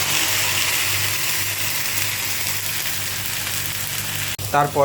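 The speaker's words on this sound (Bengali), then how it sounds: "এই পেস্টটাকে হালকা হাতে ভেজে নিতে হবে।" Ginger garlic paste fries in a pan with a steady, close sizzle that runs the whole time, then a sharp knock and a few brief scraping stirs near the end.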